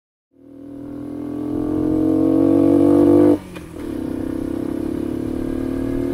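A Honda ST50 Dax motorcycle fitted with a C90 engine runs nearby, its steady engine note climbing as it pulls away, cutting briefly near the middle, then settling into a lower, even drone.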